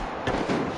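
A firecracker going off in a video game, two quick muffled pops about a quarter second apart over a constant dense background of game noise.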